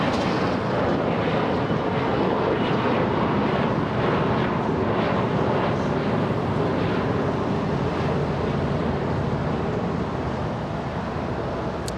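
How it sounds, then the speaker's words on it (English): A Delta airliner bound for Orlando departs LAX, its jet engines a loud, steady broadband roar that fades slightly toward the end, with wind buffeting the microphone. "Delta 867 flying to Orlando"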